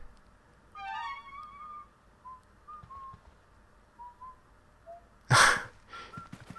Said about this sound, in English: He just leisurely whistles the theme tune whenever the room's lit up